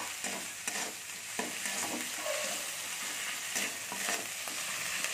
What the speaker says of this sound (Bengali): আদাটাকেও আমি ভাজতে থাকবো।